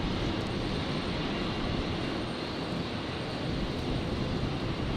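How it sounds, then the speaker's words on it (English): A Dash 8 turboprop airliner taxis out at Brisbane Airport, its engines producing a steady, loud broadband roar and drone that holds evenly throughout. "Dash 8 heading out, I think"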